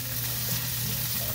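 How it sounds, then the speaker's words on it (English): Garlic and onion sizzling in a hot pan, a brief, steady crackle with a low hum underneath, close and continuous. "We're adding in our garlic. Hear that sizzle?"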